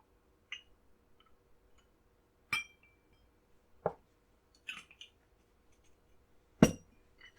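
A Negroni cocktail being stirred with ice in a glass, heard as a few sparse, sharp clinks of ice and spoon against glass separated by near silence.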